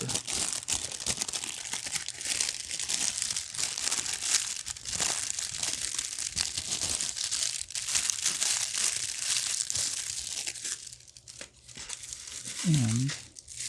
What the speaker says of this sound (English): Crinkle paper.